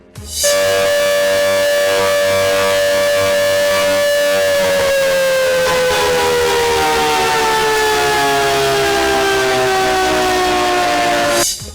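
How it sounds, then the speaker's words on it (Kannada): A loud civil defense siren in Bengaluru, sounded during a mock drill, wails steadily, its tone holding high then sliding gradually lower before cutting off, sounding alone and close. "ಸಾರ್ವಜನಿಕರಿಗೆ ಅಲರ್ಟ್ ಮಾಡುವ ನಿಟ್ಟಿನಲ್ಲಿ ಸಿವಿಲ್ ಡಿಫೆನ್ಸ್ ಸೈರನ್ ಮೊಳಗಿಸಿದೆ"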